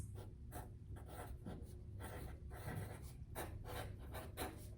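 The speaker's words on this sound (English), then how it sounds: "I could write my address." Hand writing of an address on paper gives faint, close scratchy strokes in short repeated bursts, rasping steadily with no talk over it.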